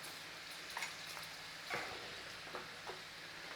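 Tofu shallow-frying in oil in a pan gives a steady, close sizzle with a few soft clicks and taps, as if pieces are being turned. There is no talking.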